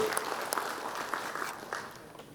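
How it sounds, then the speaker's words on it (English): A round of applause from an audience at a business talk, fairly soft and brief, a light patter of clapping without speech. "Let's give a round of applause, everybody."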